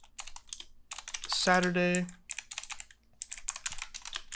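Quick clicking keystrokes on a computer keyboard during a C++ programming lesson, fairly close and steady, with a voice briefly speaking over the typing partway through.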